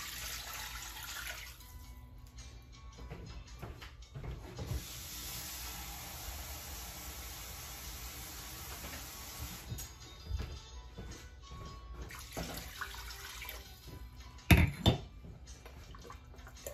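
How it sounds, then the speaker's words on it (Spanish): Water steadily poured into a cooking pot holding pork ribs, a continuous broad splashing and filling sound that runs close and fairly even, with a brief louder clatter near the end. "Y le vamos a agregar agua hasta que las tape."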